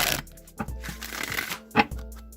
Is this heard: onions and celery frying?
no